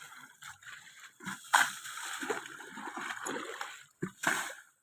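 Water splashes and sloshes as someone bathes in the Mun River in intermittent scoops and pours, close and fairly soft, with brief quiet gaps between splashes.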